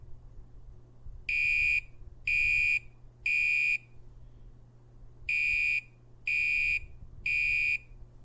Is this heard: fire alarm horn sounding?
yes